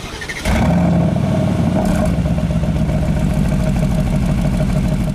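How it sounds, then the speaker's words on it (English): A 2021 Aston Martin Vantage Roadster, a luxury sports car, starts up: after a brief quiet moment the engine fires with a sudden loud bark, then settles into a steady, rumbling idle through the exhaust that carries on alone. "the exhaust in this car, which sounds pretty good. Take a listen at startup."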